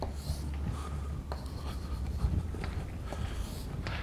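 Chalk or marker scratching out equations on a board during a physics lecture on special relativity, a steady run of soft strokes and taps in a room with low background hum.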